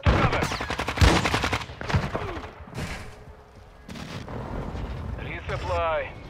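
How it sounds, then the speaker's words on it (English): Precision airstrike explosions on the Shipment map in Call of Duty: Modern Warfare II, a run of heavy booms and gunfire early on, then rumbling debris, with in-game voice announcements over it. "Hostile precision airstrike"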